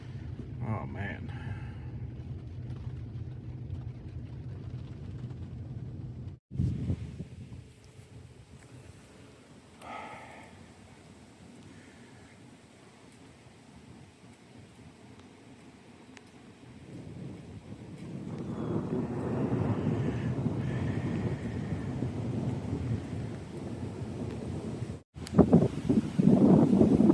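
A severe storm in Breedsville, Michigan: gusty wind buffets the microphone and rain patters, with loud bursts near the start and end and a swell of blowing wind and rain in the second half, and voices faintly present.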